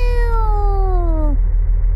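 A single drawn-out, falling meow from a cat in the game Mimic Search, loud and close over a low background hum.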